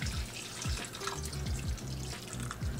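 Water pours steadily into a cooking pot on the stove, a close continuous splashing and trickling with no talk.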